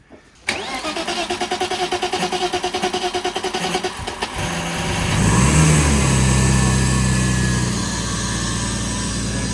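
A BMW E34 that has just had new spark plugs and a cleaned MAF sensor and throttle cranks in fast, rhythmic bursts for several seconds. It catches roughly, then rises into a loud, sustained rev close by, and no one speaks.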